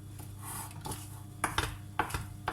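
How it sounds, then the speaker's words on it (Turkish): Cake batter stirred in a bowl with a utensil, soft close scraping and swishing with a few sharper clinks against the bowl's side, no talk. "Kenarını köşesini güzelce karıştıralım"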